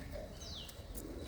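Racing pigeons cooing nearby, a soft, low murmuring coo running through a quiet background in a short moment without speech.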